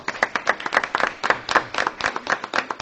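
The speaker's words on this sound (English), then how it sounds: "y'all give an applause to your parents over here." Audience clapping at a school board of education meeting, a brisk burst of many hands applauding together at close range.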